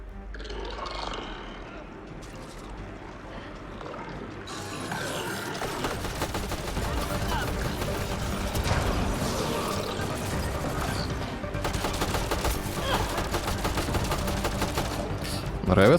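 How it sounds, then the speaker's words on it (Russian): Gunfire in Mass Effect: Andromeda, rapid dense shooting that swells after a quieter opening and stays loud to the end, with a voice talking over it. "Так кто стреляет?"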